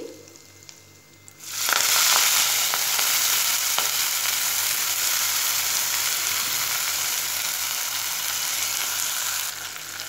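Washed fenugreek leaves with chilli powder and turmeric hit hot oil in a pan for dal methi: a quiet moment, then a sudden loud, close sizzle that holds steady for several seconds with a few stirring clicks, no talk.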